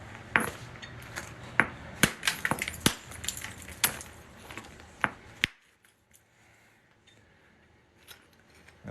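Hammerstone striking flint during knapping: a quick series of sharp, bright clicks and smacks, roughly ten in about five seconds, close and distinct, followed by near silence with one or two faint taps at the end.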